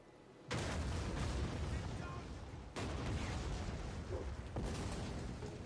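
Artillery firing in Rome 2: Total War, a strategy video game: a sudden heavy barrage that sets in abruptly, then a second loud volley, with continuous rumbling booms and distant battle noise throughout.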